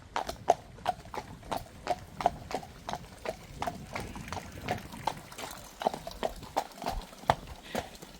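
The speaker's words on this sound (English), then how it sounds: "this is a really good example of taking a horse to water and he doesn't want to drink" A horse's hooves clip-clop steadily on hard ground beside a stone village water trough in Mankinholes, Yorkshire, an even rhythm of close, crisp strikes over soft outdoor background.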